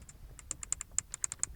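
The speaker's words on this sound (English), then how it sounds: "glad to have still a manual climate unit, again with nice clicking sounds." Crisp plastic clicks from the buttons of a 2022 Audi RS3's manual climate control unit, about a dozen quick presses in an uneven rhythm, close and quiet against a faint cabin hush.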